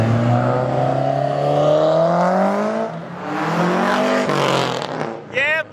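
A car with a boxer engine revs hard nearby at an Ocean City cruise week, its pitch climbing and falling in sustained pulls, loud and close, ending with a brief high whine.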